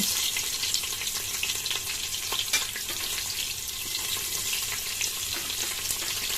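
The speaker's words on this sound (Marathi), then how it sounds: "मिरची चांगलं तेलामध्ये फ्राय होऊ द्यायची आपल्याला मसाल्याला मिरचीला" Green chillies and spices frying in hot oil for a chicken biryani, giving a continuous bright crackling sizzle, close and even in level, with no voices.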